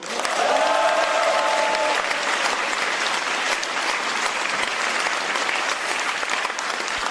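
A crowd at a Reform Party leader's acceptance speech breaks into loud, sustained applause that holds steady for several seconds, dense clapping filling the space.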